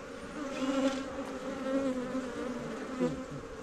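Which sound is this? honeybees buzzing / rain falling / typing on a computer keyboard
honeybees buzzing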